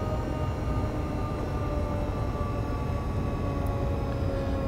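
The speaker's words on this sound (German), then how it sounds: "deshalb bremse ich den Zug jetzt einmal schon hier runter" An S-Bahn train in Train Simulator 2020 runs steadily on the Leipzig–Bitterfeld line while braking, giving a loud continuous rumble with a faint high brake whine and no voices.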